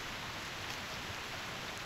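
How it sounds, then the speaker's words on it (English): Steady rain at the Green Lake campsite, a soft continuous hiss of drops falling evenly throughout, fairly faint and with no voices. "The rain is getting heavier."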